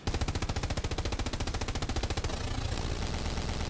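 Machine gun laying down covering fire in the World War II shooter Hell Let Loose, a rapid, evenly spaced stream of loud close-up shots for about two seconds before trailing into a rumbling wash of echo and distant battle noise.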